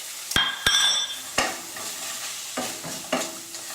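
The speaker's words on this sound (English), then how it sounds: "So we're going to saute mushrooms at this stage." Mushrooms sauté in a deglazed pan with a steady close sizzle, broken by several sharp scraping stirs of a utensil against the pan.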